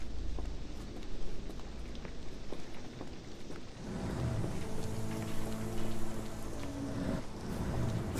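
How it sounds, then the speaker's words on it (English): Steady game rain from Sherlock Holmes: The Awakened hisses without pause, a dense even patter under a low rumble, joined midway by a faint droning hum while the downpour keeps on. "This dreary rain is making a miserable day even worse."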